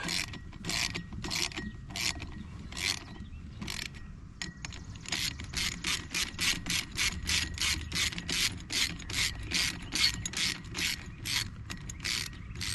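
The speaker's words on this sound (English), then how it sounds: "It's running in real easy now and make sure I don't bottom out." A hand ratchet drives a bolt into a stator hole with slightly damaged threads. Rapid, crisp pawl clicks run steadily and close up for several seconds, with brief pauses between strokes.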